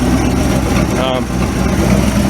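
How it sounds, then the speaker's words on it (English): A loud, rough 1959 Chevrolet Viking truck engine with a hole in the exhaust idles steadily with a raspy, rumbling low drone, with faint voices mixed in underneath. "There is a hole in the exhaust underneath right there that I gotta fix, so it's a little loud"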